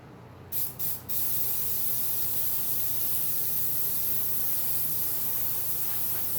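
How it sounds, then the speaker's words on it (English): A Paasche H single-action airbrush sprays paint with a steady, close, loud hiss that runs without a break after a couple of short opening puffs, with no talk. "Now I'm using a single action airbrush, a Paasche H"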